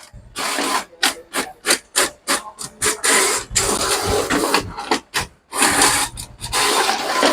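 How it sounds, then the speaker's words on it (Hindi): A double-sided letter printer feeds and prints at speed, a close run of rapid rasping mechanical strokes broken by short pauses, then longer stretches of whirring. "ये लेटर प्रिंटर है"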